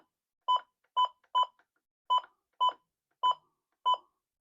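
A weather radio's buttons beep during alarm menu setup, giving seven short, clear electronic tones in an irregular sequence with silence between them and no talking.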